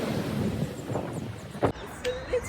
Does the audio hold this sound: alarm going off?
no